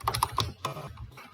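A message is typed on a computer keyboard as a quick, irregular patter of close, crisp key clicks, clear and with no talking.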